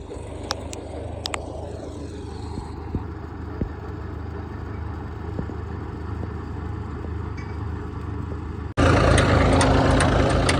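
A tractor engine drones steadily while planting potatoes in a field, a continuous mid-pitched rumble that suddenly grows louder and rougher near the end.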